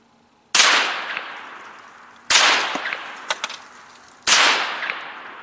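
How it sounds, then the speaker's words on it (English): Three sharp gunshots from a Hi-Point carbine ring out about two seconds apart, each loud blast trailing off into outdoor echo. "So I'm gonna put three more rounds into this pan and take my time with it"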